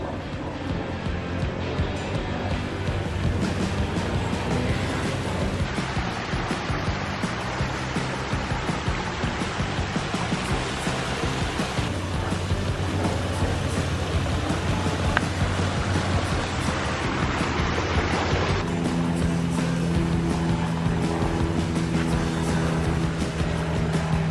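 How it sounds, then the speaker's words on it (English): Backyard waterfall spilling into a large garden pond, a loud, steady rushing splash of falling water filling the scene continuously and up close. "My goodness, that's a beautiful waterfalls."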